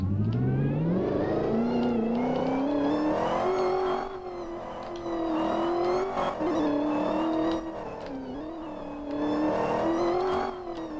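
Car driving off in the Roblox game The Hood, set in New York, a loud close engine whine that rises and steps through gear shifts, revving steadily with no speech.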